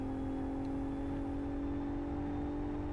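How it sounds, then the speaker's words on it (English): A turbocharged 6-cylinder car engine in the Live for Speed racing game drones at a steady, continuous pitch. The tone stays even throughout, with no talk over it. "And a 6-cylinder engine as well."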